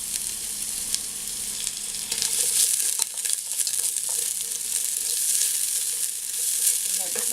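Thinly sliced small onions sizzle in hot oil in a pan as a garnish for Kozhikodan chicken dum biryani, a steady crackling fry with occasional stirring and no talk.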